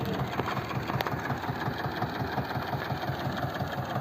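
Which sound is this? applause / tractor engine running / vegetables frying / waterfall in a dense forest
tractor engine running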